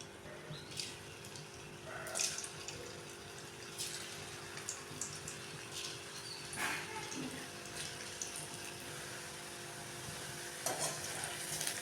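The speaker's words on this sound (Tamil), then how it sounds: "இதிலே கொஞ்சம் கொஞ்சமாக நம்ம போட்டு பொரித்து எடுத்துக்கலாம்." Pieces of elephant foot yam frying in a small amount of oil, a quiet steady sizzle with occasional scraping and clicking stirs, no talking.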